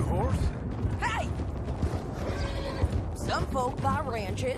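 A horse in the Red Dead Redemption 2 video game whinnies in a few rising and falling calls, with hoof clip-clops, creaking tack and game dialogue spoken around it.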